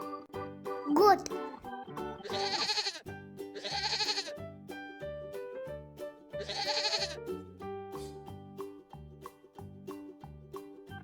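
Goat bleats from a farm animal toy play in three short electronic bursts amid a repeating plinky toy melody, close and moderately loud, with a brief child-like voice near the start.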